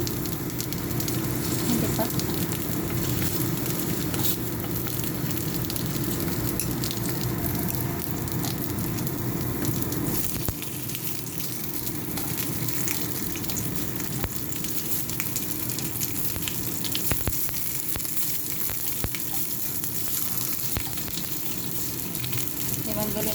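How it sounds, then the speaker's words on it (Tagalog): Food frying in hot oil until golden brown, giving a steady, close sizzle with crackling that runs the whole time at an even level. "kailangan natin i-fry ito hanggang magiging golden brown"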